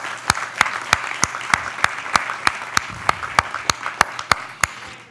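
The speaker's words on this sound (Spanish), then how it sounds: "Eso merece un aplauso al Señor" Church congregation applauding during a worship service, a steady run of sharp, evenly spaced claps rising above a soft room hum, fairly close and sustained.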